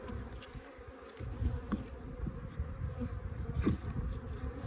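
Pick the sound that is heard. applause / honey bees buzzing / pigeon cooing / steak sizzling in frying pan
honey bees buzzing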